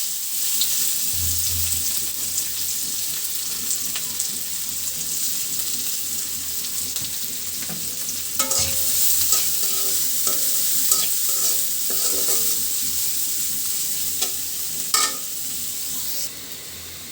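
Chopped onions dropped into hot oil left over from frying fish, sizzling steadily and loudly throughout with occasional stirring clatter and scraping, no voices.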